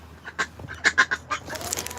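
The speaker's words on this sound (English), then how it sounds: "that is ducks" Ducks quack in a quick run of several nasal calls, close and distinct, against a faint low background hum.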